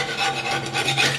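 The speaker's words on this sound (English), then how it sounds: "So I'm just going to clean up the old putty off of here" Old putty being scraped off the rim of a kitchen sink drain opening, a continuous gritty rasping scrape up close.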